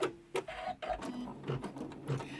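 A home embroidery machine stitching the lining of a curved zip pouch, giving a quick series of mechanical whirs and needle thumps in short rhythmic bursts, close-up and fairly quiet.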